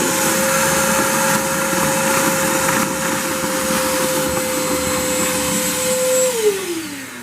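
A Sealey PC20VCOMBO4 20V cordless wet and dry vacuum runs close and loud, sucking up water with a steady whine and gurgling, then spins down near the end.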